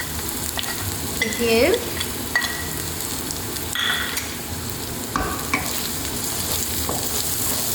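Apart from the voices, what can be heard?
turmeric and chili powder frying in eggplant curry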